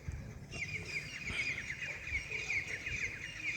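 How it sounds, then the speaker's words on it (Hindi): Birds calling on a cold, foggy winter morning, a steady stream of chirps and clucking calls that sounds like roosters and hens at a moderate distance, continuing without pause and with no talking. "ये देखो, चिड़ियाओं की आवाज़ें भी आपको आ रही होंगी ना।"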